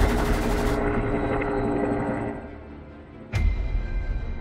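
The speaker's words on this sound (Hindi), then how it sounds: "हमें मार्को को रोकना होगा, लेकिन हेलीकॉप्टर से इतनी फायरिंग हो रही थी कि डिटेक्टिव कुछ नहीं कर पा रहे थे।" A helicopter during an armed criminal attack, heard as a loud, steady rotor and engine drone that fades slightly before a sharp burst near the end brings it back up.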